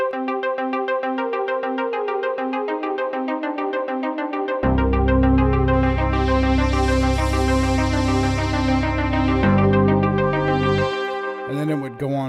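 Dark synth song breakdown produced in Native Instruments Maschine: a thin arpeggiated synth pattern plays alone, then a deep bass and fuller pad swell in mid-section before dropping back out, ending with a brief glitchy burst.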